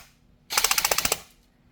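A Strike Industries Sentinel airsoft rifle fires one short full-auto burst of about ten rapid, evenly spaced clacking shots, close and crisp, with quiet around it.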